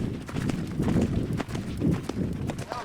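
Horse hooves clip-clop in an uneven trotting rhythm on dirt, fairly close, with a low rumble of movement around them.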